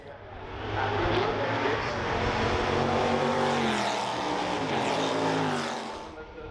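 Ford GT40 race cars roar past on the Goodwood Revival circuit, engine notes rising and falling as they pass close by in a loud, sustained wash of sound, with a commentator's voice underneath.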